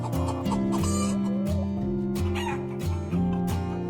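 Chickens cluck and squawk in a busy, overlapping chorus at a poultry farm near Mumbai, close and loud, with sustained tonal drones running underneath.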